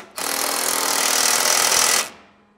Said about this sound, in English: we're gonna go ahead and tighten this up, 3/4 inch socket